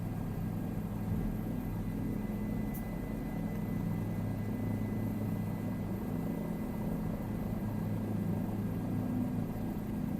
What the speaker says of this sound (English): I always like the way the 407s sound whenever they fly over